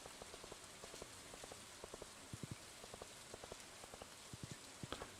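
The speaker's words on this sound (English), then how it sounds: "Oh no, it's raining." Steady rain patters down in Stardew Valley, a soft continuous wash of drops on the ground with scattered faint footstep-like ticks, alone and without talk.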